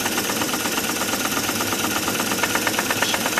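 A PM Research model dynamo spins at about 500 RPM, making a steady, fast whirring and rapid ticking hum, close and continuous.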